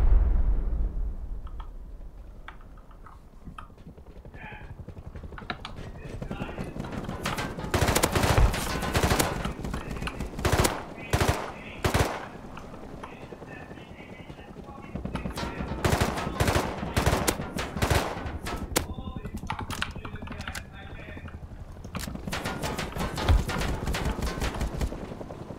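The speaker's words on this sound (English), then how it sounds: "How did I turn on burst fire, by the way?" Burst-fire gunfire in the survival game Rust, clusters of loud rapid shots broken by quieter stretches across the scene, with a few thumps and impacts mixed in.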